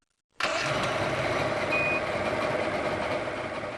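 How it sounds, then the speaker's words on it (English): An outboard motor fires up abruptly after silence and settles into a steady, fairly loud running drone, with a brief thin tone partway through. "Start the engine."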